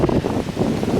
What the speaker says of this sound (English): I hope you guys can hear me, it's windy.